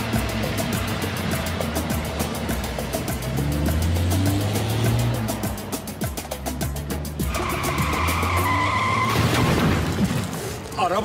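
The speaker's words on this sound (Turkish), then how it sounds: "Araba çarptı lan!" Car tyres skid and squeal loudly in a Turkish film scene before a crash, with long screeching slides, engine roar and shouting voices mixed in.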